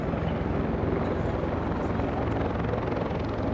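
A helicopter's rotor drones loudly and continuously nearby during an armed DEA escort operation, a dense, steady chopping roar with no break.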